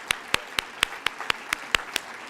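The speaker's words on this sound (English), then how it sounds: "Give them a great round of applause." Slow, even claps for La Quinta High School performers at a school district event, about ten sharp, evenly spaced hand claps close to the listener with quiet between them.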